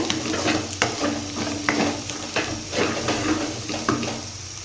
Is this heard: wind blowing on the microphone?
no